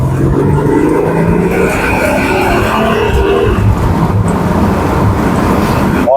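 A 1989 Jaguar XJ12 Sovereign drives at speed, its engine noise and road roar forming a loud, steady wash that stays constant and close throughout, with no voices.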